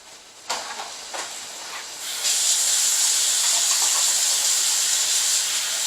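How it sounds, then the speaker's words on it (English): A few clicks, then a pan bursts into a loud, steady hiss of sizzling that continues evenly to the end, while cooking pesto pasta. "Let me turn it on, and you're going to hear the sizzle"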